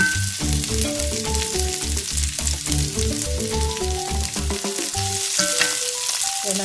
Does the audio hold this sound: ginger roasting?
yes